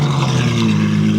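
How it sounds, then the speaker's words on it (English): Ferrari F12 V12 engine at a track paddock, a loud steady low drone with a strong harmonic rumble, sustained near the mic without clear rev peaks. "Now we get to get the Ferrari F12 V12."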